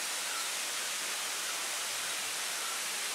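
Kirindi Ella waterfall in Sri Lanka roars as a constant, dense, hissing rush of falling water, steady and unbroken with no voices.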